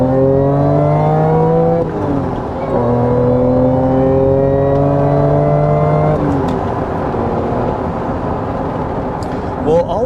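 An Acura NSX engine runs steadily nearby with smooth tonal whine, pitch dipping and rising a few times as revs shift, loud and continuous; no talking is heard.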